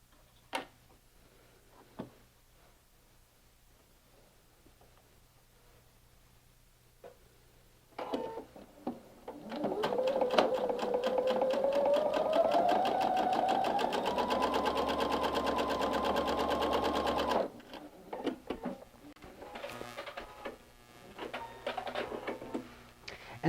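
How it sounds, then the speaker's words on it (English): A home sewing machine runs a quarter-inch seam joining quilt pieces, a steady mechanical whir rising slightly in pitch and lasting about eight seconds, with quiet handling clicks before and after. "what I'm going to go is just go to my machine and sew it up."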